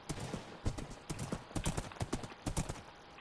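Horse hooves clip-clop in the Minecraft video game, a quick repeated patter of close, moderately loud hoofbeats in several bursts, heard on their own.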